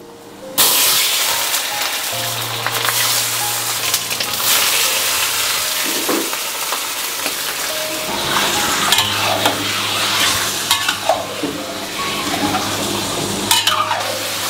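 Large chunks of pork frying in rapeseed oil in a wok, a loud continuous sizzle with constant stirring scrapes and occasional clanks close by.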